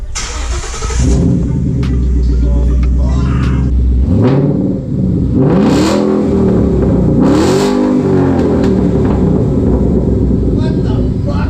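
A 2011-2014 Ford Mustang 5.0 Coyote V8 with a straight-pipe muffler delete cranks and fires up, then barks through several loud, sharp revs that rise and fall, close and raw, with brief talk at the start.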